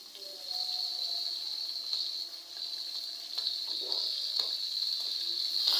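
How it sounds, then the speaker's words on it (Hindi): Masala paste of ground tomatoes, garlic-ginger paste and green chilies fries in a kadahi over medium-high flame, a steady close bright sizzle with small crackles and stirring scrapes, no talking. "तकरीबन 2 मिनट में मैं इसको फ्राई करूँगी"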